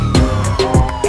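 Ambulance siren from a GTA 5 police mod game, a loud wailing tone that sweeps up and down repeatedly over about a second.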